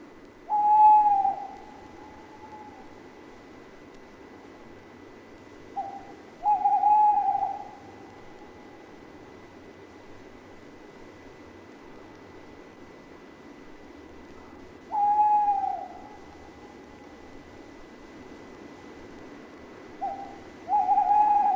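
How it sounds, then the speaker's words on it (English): Tawny owls in October woodland give four clear hooting calls, spaced several seconds apart over a quiet background, as two birds answer each other at moderate distance. "the tawny owls often hold territories, which they proclaim with their hoots"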